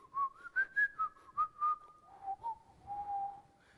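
Thin, tuneful whistling comes from a room's roof, a faint string of rising and falling notes, some short and some held, with nothing else over it.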